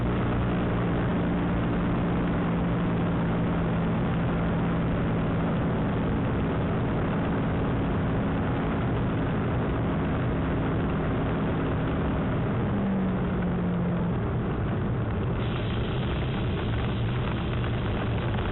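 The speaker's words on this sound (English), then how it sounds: "We're coming into land now." A Spitfire's engine drones steadily and loudly from inside the aircraft as it comes in to land, a continuous heavy roar with a slight shift in pitch toward the end.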